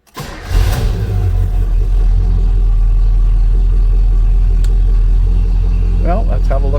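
A 1969 Oldsmobile Cutlass Supreme V8 catches and then runs on, a loud, close, steady engine rumble with a deep low drone that holds through to the end.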